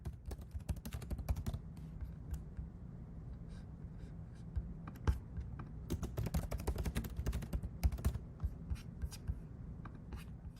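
A computer keyboard clatters under fast typing, with dense bursts of close, crisp key clicks, short pauses between words, and occasional louder keystrokes.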